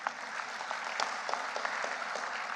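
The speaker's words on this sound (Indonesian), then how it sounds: "Beri tepuk tangan untuk Ibu Kiki." A hall audience at the SNI Award 2019 evening ceremony gives a dense, continuous round of applause, a steady wash of many hands at moderate distance with no speech on top.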